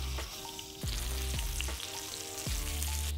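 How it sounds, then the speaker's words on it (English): A rack of New Zealand lamb sizzles loudly in hot butter, a continuous crackling hiss with occasional clanks from the pan. "you can just hear that sizzling"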